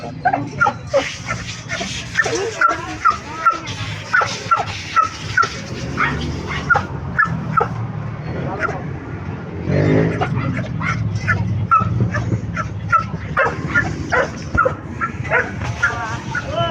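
A dog yips and whimpers repeatedly in short rhythmic bursts throughout, fairly close, with people talking over it and faint traffic behind.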